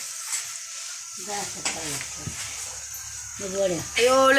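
Crispy taro (alu) leaves sizzle and crackle steadily in hot oil, a close frying hiss, while voices talk over it.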